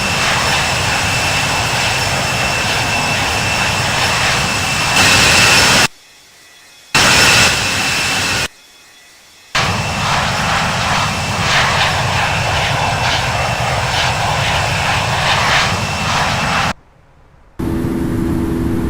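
Airliner jet engines roaring steadily during takeoff in the Infinite Flight simulator game, a loud sustained broadband drone broken by a few short silent gaps, with no talk.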